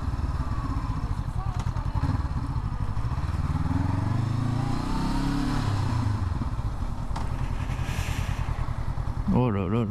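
Several motorcycles, among them a Ducati, roll past on a road, their engines droning and revving loudly and steadily throughout, with someone talking over the noise.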